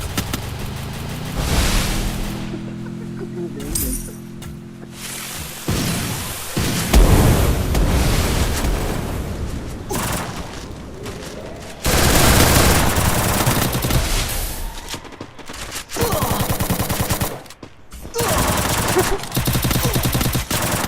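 Sniper rifle shots and gunfire from a mobile shooting game played on a phone, dense and loud bursts of rapid fire and booming blasts running almost continuously, with a faint voice now and then underneath.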